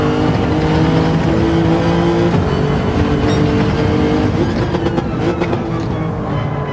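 Race car in Gran Turismo 7 at Interlagos accelerates out of a sharp right-hand corner from first gear, the engine note loud and close, rising steadily in pitch as it climbs through the revs with no talking over it.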